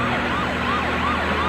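A police car siren wails loud and close in a steady repeating up-and-down sweep, with no voices over it.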